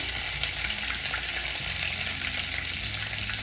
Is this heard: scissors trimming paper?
no